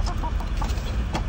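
Chickens cluck softly in short, scattered calls over a low, steady rumble of background noise, with no speech present.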